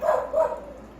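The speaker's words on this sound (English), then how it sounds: "My dogs wanted to be in on that" Dogs in a home kitchen give two quick, close barks, one right after the other, within about half a second.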